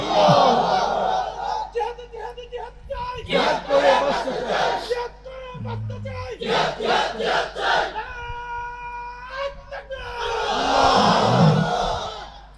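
A large crowd roars a takbir chant in unison at a religious gathering, loud surging shouts rising and falling in repeated bursts, with a lone voice leading between them.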